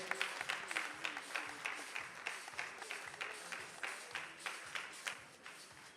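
Crowd at a youth business awards ceremony giving a round of applause as a presenter is introduced, a quiet, rhythmic clapping with regular beats, heard at a distance and gradually thinning toward the end.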